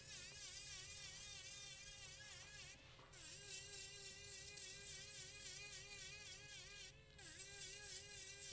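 A Spartan Torch electric pedicure drill bit running at 25,000 RPM whines with a steady high-pitched buzz, briefly dropping out twice before resuming.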